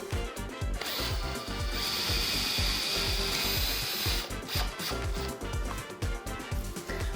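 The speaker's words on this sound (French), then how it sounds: "Pour installer la cheville mollie, on va percer un trou de 7 mm et demi, voire 8 mm" A power drill bores an 8 mm hole into plasterboard for a molly anchor while a curtain rod is being installed, giving a continuous high whine over rattling, grinding noise for several seconds before it stops.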